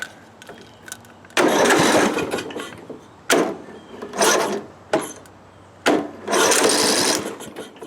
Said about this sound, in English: First thing I want to do is just make sure that the engine turns over.